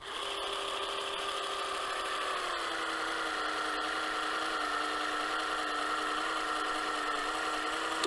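A GTM GGC18/150 cordless glue and sealant gun runs at maximum power with a steady, close electric motor whine that holds for the whole stretch and dips slightly in pitch midway.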